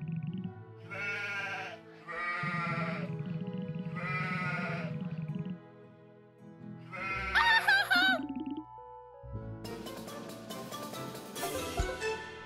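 Sheep bleating in the farming video game Potion Permit: several drawn-out, wavering bleats in steady succession, then a sharper, higher call followed by a brighter burst of game sounds, with no talk.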